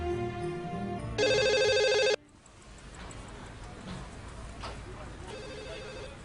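An indoor telephone rings in a loud, steady electronic burst of about a second, then stops; a short fainter ring follows near the end over background murmur, in a Malayalam household drama scene.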